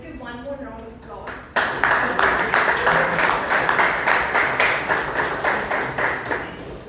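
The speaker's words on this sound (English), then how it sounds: "Let's give one more round of applause." After a voice finishes speaking, a Toastmasters club audience in Bangalore breaks into applause, many hands clapping briskly and evenly at close range for several seconds.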